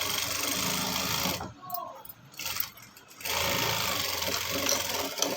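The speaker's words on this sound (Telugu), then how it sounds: "ఇప్పుడు దీన్ని ఒక కుట్టేద్దాం పైనుంచి జాయింట్" A sewing machine stitching a joint on a frock, running in a loud steady whir, stopping briefly for a second or two with a short burst in between, then resuming its continuous drone.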